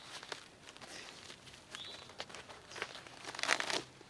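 Crinkling, rustling handling of a zippered waterproof military map kit pouch, with scattered soft crackles and one brighter burst of crumpling near the end, fairly quiet and close with no talk.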